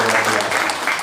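A church congregation at a Sunday Indonesian sermon breaks into steady, dense applause that fills the room at full volume, with a voice faintly under the clapping.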